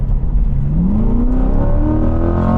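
A sports car engine on track at quarter throttle through a corner hums loud and close, its pitch climbing smoothly and steadily as it pulls through the bend, with no voices.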